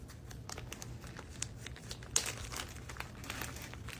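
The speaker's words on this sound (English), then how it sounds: "Then you're going to open your Ziploc bag." A Ziploc plastic bag is handled and opened with close, faint crinkling and rustling in irregular bursts, including one sharper crackle midway.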